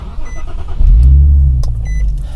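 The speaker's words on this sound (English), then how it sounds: "The next step is to start the car so we can stream some live data." A car being started ahead of streaming live data through a Bluetooth OBD scanner: a near engine crank and catch swells into a low, steady rumble, with a couple of short electronic beeps over the idle.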